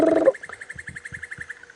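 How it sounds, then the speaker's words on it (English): Birds call near a dry riverbed on a morning safari drive in an African reserve: a burst of loud sound opens, then a rapid, even series of repeated notes runs alongside low pulsing calls. "And we can hear all the birds around us."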